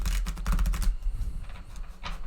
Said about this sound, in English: I shuffle them like the whole time I'm setting up pretty much.